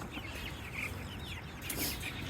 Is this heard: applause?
no